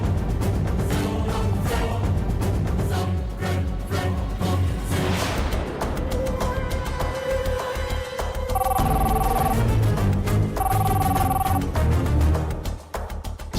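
A telephone rings in two short bursts of electronic trills, a few seconds apart, over loud dramatic background music in a Telugu TV serial scene set during wedding preparations.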